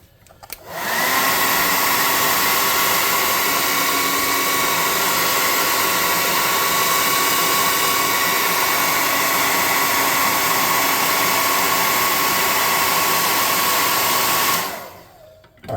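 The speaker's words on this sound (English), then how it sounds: "Let's hit him with the air gun, actually." Steady, loud rush of compressed air from an air gun blowing over a freshly painted tabletop miniature to dry it, a continuous hiss running unbroken for about fourteen seconds with no talk.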